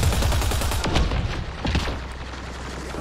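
Gunfire in Mass Effect Andromeda: a loud burst of rapid shots with booming low impacts, then a few scattered cracks as the firing tails off.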